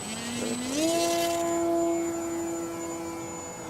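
An E-flite Timber RC plane on floats flies past with a steady electric motor whine that rises in pitch as it speeds up, then holds a sustained tone, moderately close with no talking.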